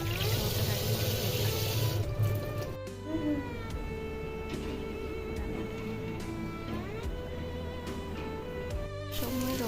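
Tap water runs steadily into a kitchen sink for drinking supply, a continuous close splashing stream with a few brief clinks and shifts in the flow partway through.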